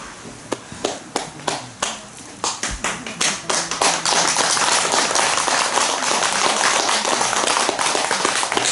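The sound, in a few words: hands clapping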